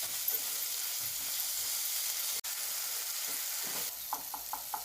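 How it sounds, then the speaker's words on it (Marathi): Tomatoes with salt sautéing in a pan make a constant close hiss of frying, followed by a short series of light spatula taps and scrapes near the end. "टोमॅटो मध्ये आपण छान मोहरीपर्यंत परतून घेऊया"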